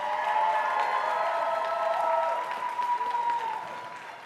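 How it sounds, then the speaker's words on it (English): Crowd applause for youth climbers at a national youth speed climbing final, a broad steady clatter of many hands that stays full for about three seconds, then thins and tails off. "Can we get the fattest round of applause for these athletes?"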